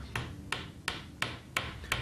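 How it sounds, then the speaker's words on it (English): Pre-glued wooden dowels are hammered into a workbench joint: six sharp, evenly spaced strikes land about every third of a second, each a crisp bright knock over a quiet background. "Whilst the clamp is in place, hammer in the pre-glued dowels."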